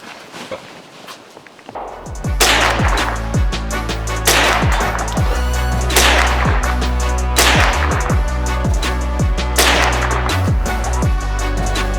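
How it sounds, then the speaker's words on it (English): Five loud, sharp rifle shots fired at a target on a range, evenly spaced about two seconds apart, each with a ringing echo tail and no talk between them. "Chris, let's validate it with a 5-shot Center"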